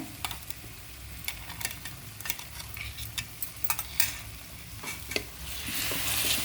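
A paste frying with onion and green chili in a pan, a steady sizzle under scattered scrapes and clicks of a stirring spoon, close up, with the sizzle swelling louder toward the end.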